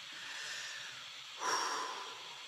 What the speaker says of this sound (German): Einfach mal kurz atmen, kurz reinfühlen.